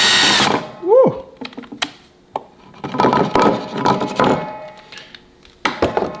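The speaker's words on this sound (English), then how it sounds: "just a little pre-drill at the top, right where the secondary piece of wood is" A power drill whines briefly at the start while pre-drilling wood, winding down, followed by scattered scraping, tapping and rubbing on wood.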